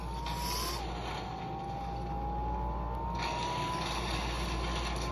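Car engine in the Fortnite video game, a steady droning hum with a slowly rising tone as the vehicle drives, continuous and fairly close, with no voices.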